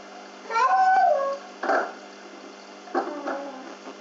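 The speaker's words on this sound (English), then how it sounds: "Excuse my baby's noises in the background." Background baby noises come as a few short whimpering coos and squeaks in separate bursts, faint and thin.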